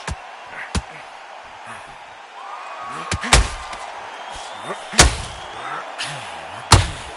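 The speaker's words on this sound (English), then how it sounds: "Good counter punch." Several heavy, sharp thuds of boxing punches landing in the Undisputed boxing game hit at irregular intervals, loud and close, over a murmuring crowd with commentary voices talking throughout.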